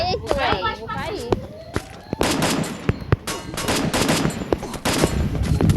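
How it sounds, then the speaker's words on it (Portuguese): Video-game battle gunfire crackles in rapid sharp bursts and single shots, near and loud, mixed with running footsteps and people talking over the action. "Eles estão atirando, Lucélio."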